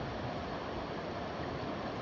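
Steady broadband rush of river water flowing down the Hood River on a warm summer day, continuous and fairly close with no voices.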